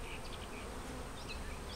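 Honey bees swarm around a hive frame, filling the air with a dense, continuous buzzing hum from many insects close by, with occasional individual bees whining past; no one speaks.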